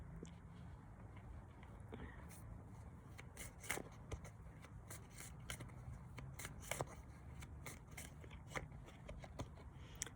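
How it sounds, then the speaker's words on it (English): Cards from a tarot deck rustle and slide close by in a quiet room as one is drawn, with soft repeated scrapes and flicks. "Let's get one more card from here."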